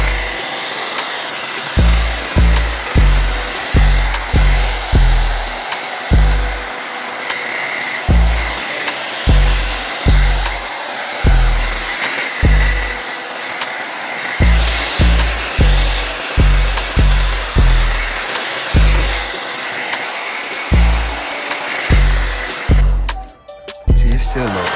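A heat tool on low heat blows steadily over an Air Jordan 11 sneaker, with a close, continuous airflow whoosh and a regular pulsing thump throughout.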